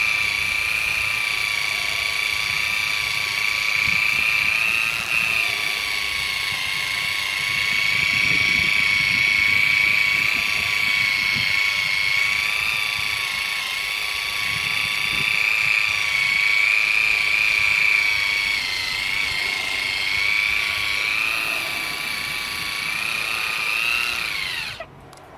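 A Newdec Pro cordless mini polisher fitted with a smaller pad runs at speed 4. It gives a steady, close, high-pitched motor whine that wavers slightly in pitch and cuts off at the end.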